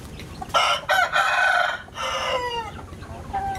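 A garden rooster crows loudly and close by, with a long cock-a-doodle-doo broken by short pauses and a softer trailing crow at the end, while faint hen clucking sits underneath.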